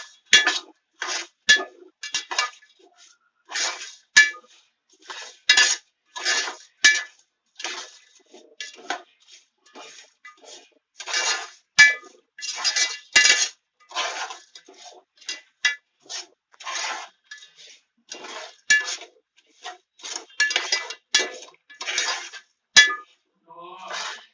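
A spoon scrapes and clinks against a pot on the stove while jaggery dissolves in water, with irregular close metallic taps and stirs repeating over about twenty seconds and brief gaps between strokes.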